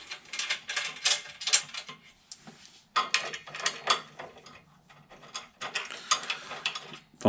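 A ratchet tightens an M8 fastener on a front bracket during a Toyota Starlet 4E-FE turbo conversion, producing bursts of rapid clicking in several separate runs with short pauses, close and clear.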